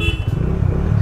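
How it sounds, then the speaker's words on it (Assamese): A motorcycle engine at the start of a morning group ride, a loud close rumble of rapid low pulses lasting about a second, with no voices. "এই বাইক আমি ষ্টাৰ্ট দি দিছোঁ"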